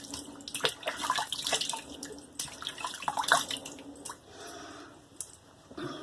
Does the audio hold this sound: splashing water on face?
yes